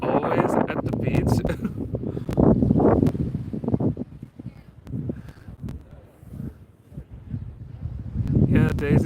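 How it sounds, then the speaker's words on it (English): Steady wind at the Baltic Sea beach, buffeting the microphone with a continuous low rumble that swells and eases, while someone talks over it for much of the time. "It's a little bit windy"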